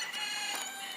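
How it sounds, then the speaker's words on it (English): Chickens and a rooster in a backyard coop, with a steady, faint wash of clucking and crowing in the background and no clear single call standing out. "I think there's like 1 rooster in there"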